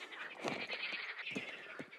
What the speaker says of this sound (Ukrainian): Жаби квакають.